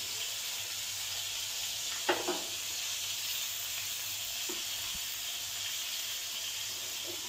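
Bombay duck (bombil) fillets frying in a pan over a gas flame, giving a steady even sizzle and hiss with a couple of faint pops and clinks partway through.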